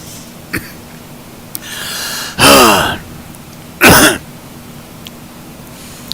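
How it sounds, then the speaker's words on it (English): A man coughs and clears his throat as a reaction to medication: two loud, harsh, rasping bursts a second apart, preceded by a softer breathy rasp, in an otherwise quiet room with a faint steady hum. "Makes me hack and cough."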